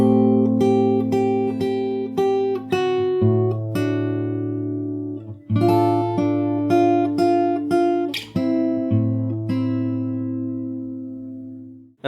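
Fingerstyle guitar plays the main theme from The Last Of Us 2 from the start, with plucked arpeggios over steady low bass notes in two flowing phrases, the chords ringing close and clear with no voice.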